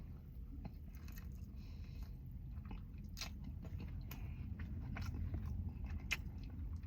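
Someone chews a bite of medium-rare steak up close, with soft, irregular crunching and squishing bites over a quiet background.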